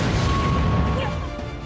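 A heavy, roaring rumble fills the whole moment, deep and sustained like a big explosion from Attack on Titan, fading slightly toward the end.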